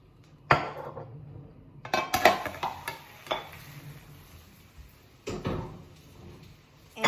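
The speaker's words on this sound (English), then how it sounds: "So we're going to put the plate over the pan, and we're going to go to the sink." Plate and frying pan clatter and knock as a Spanish omelette is flipped at the stove and sink, several sharp close clinks and scrapes between quieter kitchen handling.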